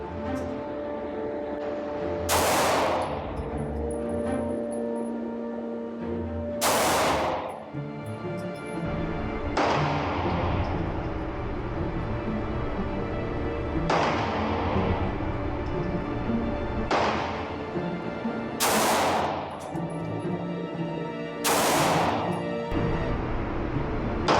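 Pistol shots fired at 45 feet from a Stealth Arms Platypus and a Bul Armory SAS II Tac 4.25. About seven sharp, loud cracks come every few seconds, each trailing off in a brief echo over steady background noise.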